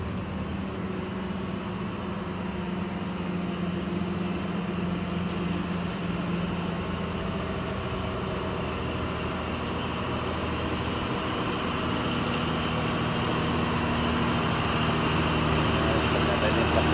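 A 4x2 truck in low gear on a steep Aceh mountain road, its engine droning steadily and loud throughout, a constant low rumble with a whining hum that builds slightly near the end.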